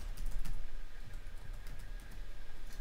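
Rapid, continuous typing on a computer keyboard, close and fairly quiet, with keys clicking in quick irregular bursts against a low background hum.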